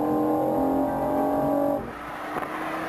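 A BMW i8 hybrid sports car's three-cylinder engine, heard from outside, hums with a steady, fairly loud tone that drops and fades near the end of the stretch.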